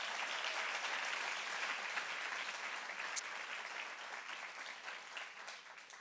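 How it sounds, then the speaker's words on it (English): Steady applause from a crowd at the grand finals ceremony of the third Urban Greenhouse Challenge, dense and sustained throughout, slowly thinning toward the end. "A big applause for yourself"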